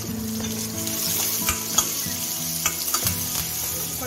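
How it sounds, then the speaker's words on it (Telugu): Curry leaves, chopped onion and a pinch of asafoetida sizzle loudly in hot tempering oil for tamarind rasam. The frying hiss runs continuously while occasional spoon taps and clinks sound as the pan is stirred. "తర్వాత కరేపాకు, తర్వాత ఉల్లిగడ్డ కూడా వేస్తాను, అలాగే కాలుపులో కొద్దిగా ఇంగు కూడా వేస్తాను"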